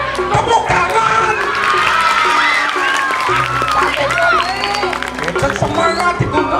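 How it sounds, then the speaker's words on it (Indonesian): Crowd at a Balinese Calonarang performance in Payangan, Gianyar, applauding and cheering loudly and continuously, with shouts and voices mixed throughout. "Tepuk tangan."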